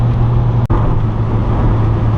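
A Volvo V70 2.4T cruises on the highway, a steady loud drone of engine and road rumble with a low hum, briefly dipping once before settling back.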